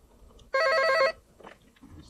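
A telephone bell rings once in a single loud half-second burst as a call is placed, then stops, leaving a quiet room.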